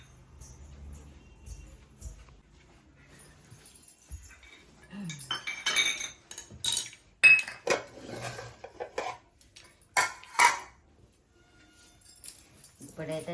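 Cups, bowls and spoons clink and clatter in a home kitchen, with scattered sharp chinks of ceramic and metal growing busier midway, under soft intermittent talk.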